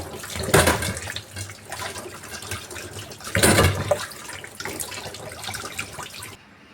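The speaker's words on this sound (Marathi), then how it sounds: "कैऱ्या मी स्वच्छ धुवून घेते आता" Raw green mangoes are washed under running water from a tap, a steady splashing stream with two louder surges as the fruit is rinsed, heard alone without talk.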